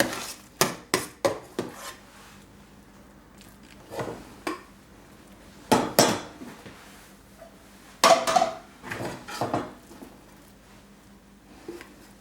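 Mashed potatoes for a shepherd's pie are scooped and pressed into a baking dish, producing a series of close, uneven scraping and soft squishing strokes in bursts, with short quiet pauses between.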